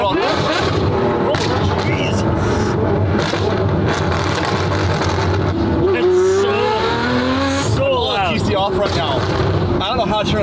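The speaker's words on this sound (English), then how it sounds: "right now you got no stability control. That's why it's spinning on us and kicking out like that" Ferrari 599 with stability control switched off, its engine snarling loudly and rising in pitch as the wheels spin and the tail kicks out, with brief tire squeal and people talking over the noise.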